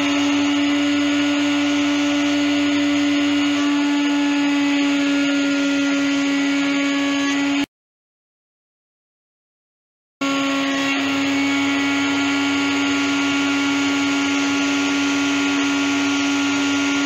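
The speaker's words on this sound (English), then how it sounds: "basically cut it out with this 1/4-inch router bit" A router spinning a 1/4-inch bit cuts a 3-ply SG-style guitar body with a loud, steady, high-pitched motor whine that runs alone and unbroken except for a silent gap of about two and a half seconds midway.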